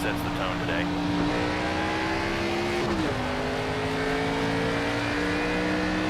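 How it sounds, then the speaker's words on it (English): Simulated NASCAR Xfinity Series race cars roar steadily in the NASCAR 25 video game, a sustained loud engine drone with a brief pitch dip near the middle as revs shift, continuing without speech. "I always love the way the engines sound on these Xfinity cars."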